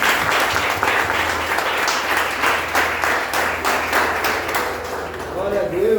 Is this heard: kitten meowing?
no